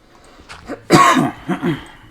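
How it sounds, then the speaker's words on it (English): A single harsh cough, close and loud, followed by a couple of softer throaty coughs or throat-clearing sounds, with no talking. "Still got a little bit of that cough,"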